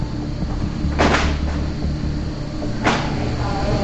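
A warehouse freezer door opens on its own, giving two brief scraping, sliding whooshes about two seconds apart over a steady low machinery hum.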